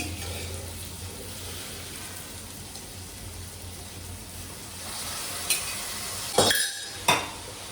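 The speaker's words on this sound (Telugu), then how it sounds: "ఇప్పుడు ఈ కైమా కూడా దాంట్లో వేసేద్దామండి." Minced mutton kheema tips into a pan of cauliflower frying in oil, a soft steady sizzle under faint stirring, then a few sharp clinks and scrapes of a utensil against the pan near the end.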